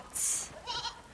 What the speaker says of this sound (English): Little goats?